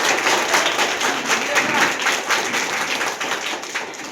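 An audience claps for a hostel warden at a gathering, dense continuous applause with a lively patter that stays fairly loud throughout the few seconds.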